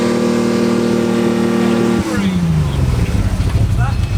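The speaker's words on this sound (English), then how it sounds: "We're just about to noise test Tom's car." A Jaguar race car's engine holds a steady high rev, then drops sharply and falls back to a lumpy idle, loud and close during a trackside noise test, with a voice speaking over it.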